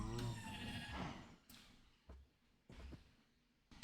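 A few sheep bleats from a Minecraft All The Mods 9 modpack world rise over a low murmur, followed by sharp clicks and knocks, with the bleating fairly soft and fading.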